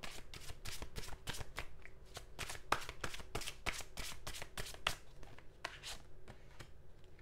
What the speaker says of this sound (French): je vais juste tirer quelques cartes du tarot pour terminer ce tirage